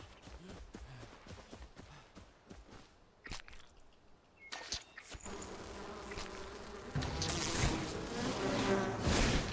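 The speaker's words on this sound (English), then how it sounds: "I'm having issues finding beehives." Bees buzz around a beehive in the video game Enshrouded, a steady insect drone that grows louder and denser toward the end, mixed with other game sounds.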